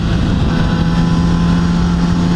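A motorcycle engine holds steady in fourth gear while engine braking on a road approaching a corner, a loud continuous droning hum with wind rush and no talk.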